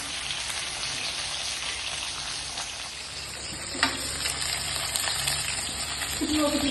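Fish pieces frying in hot oil in a home kitchen, a dense continuous sizzle and spatter close up, with a few louder pops and crackles toward the end.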